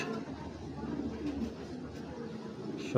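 A racing pigeon gives soft, low cooing close by, a faint continuous murmur with a brief louder flutter near the end, no talking.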